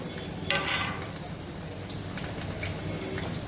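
Tomato goes into a pan of lightly fried capsicum, setting off a loud burst of sizzling that settles into a steady frying hiss with occasional stirring scrapes.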